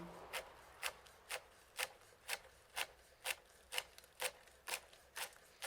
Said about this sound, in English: Now we mince the young celery.